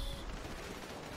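Rapid, dense gunfire in the video game GTA V Online, heard as a continuous burst of shots throughout, steady and fairly loud, with no speech.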